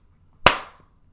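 A single sharp hand clap, loud and close, standing alone with a short fading tail and no talk around it.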